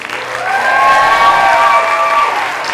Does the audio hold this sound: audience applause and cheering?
yes